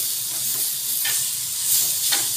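Cluster bean thecha being stirred in a pan over a full gas flame, a steady frying sizzle with occasional scraping strokes, close and moderately loud, no voices.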